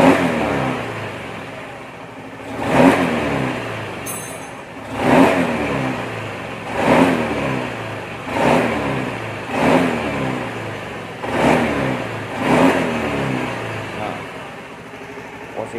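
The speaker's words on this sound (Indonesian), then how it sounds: "Nah, kita gas spontan pun dia mau guys." Automatic scooter engine revved repeatedly on the throttle, about seven rising bursts spaced a second or so apart, each swelling and falling back to idle, fairly loud and close, with no talk over it.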